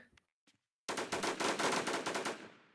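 A loud, continuous burst of automatic gunfire in the survival video game WarZ hammers away for almost two seconds after a short quiet gap, then trails off.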